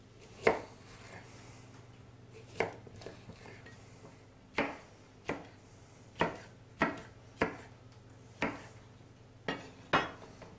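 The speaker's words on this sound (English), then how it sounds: "Just halving those and then just chopping them into chunks." A knife chops vegetables into chunks sharply against a board in quiet, irregular strikes, about a dozen crisp thuds with short pauses between them.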